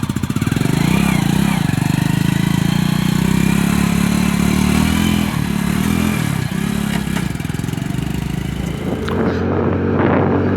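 A Honda Pridor 100 cc motorcycle engine runs steadily during a ride, a loud, continuous mid-pitched drone with mechanical clatter that holds at a constant level throughout, close to the microphone.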